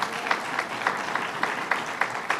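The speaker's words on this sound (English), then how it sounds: "Give him a round of applause." Light, steady applause from an audience at a Woodbury interchange project announcement, fairly faint and distant with a few sharper claps standing out.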